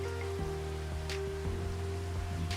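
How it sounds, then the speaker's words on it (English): Steady rain hisses over a low, constant tractor hum in the video game Farming Simulator 25, with soft irregular patters throughout. "oh, it's raining"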